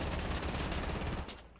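Rapid burst of automatic assault rifle fire in the Fortnite video game, a dense loud rattle of shots lasting about a second before cutting off, with no voices over it.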